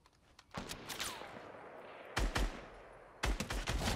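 Gunfire in the Fortnite battle royale game: several separate bursts of rapid shots, sharp and fairly close, separated by short gaps of lingering echo, with no talk.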